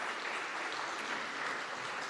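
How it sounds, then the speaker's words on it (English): Steady applause from a conference audience welcoming panelists to the stage at a tourism narratives session, a dense, even wash of many hands clapping at moderate volume throughout with no break. "And a warm round of applause."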